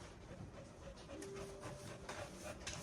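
A dog pants heavily in quick, steady rhythm close by, a continuous breathy huffing with a brief whine-like tone partway through, no talking over it.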